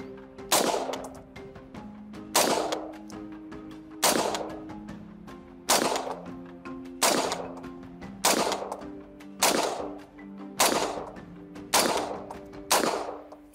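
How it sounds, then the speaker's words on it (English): Nine loud, evenly spaced single shots from a rifle firing steel-case .223 Red Army Standard ammunition through an original A2 birdcage muzzle device, each crack ringing out and decaying before the next, about every one and a half seconds. "with the steel case 223 Red Army standard ammo with the original A2 Birdcage muzzle device"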